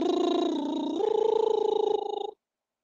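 A single sung vocal trill during a vocal coaching workshop, held close and steady for about two seconds, stepping up in pitch partway through before cutting off into silence.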